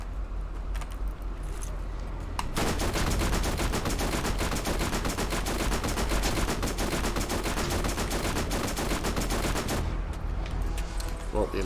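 Incendiary gunfire from the video game Borderlands: a sustained, dense stream of rapid automatic shots running for about seven seconds, loud and close, after quieter game sounds.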